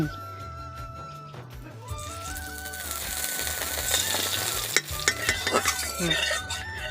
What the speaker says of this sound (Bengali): এখন আমি কড়াই দিয়ে দিচ্ছি এই ঘি